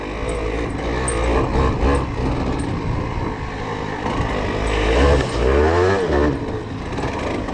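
A Yamaha TDR motorcycle engine being ridden off-road, with a rough, steady drone that rises and falls as the throttle opens, loud and close throughout with some wind buffeting and no talking.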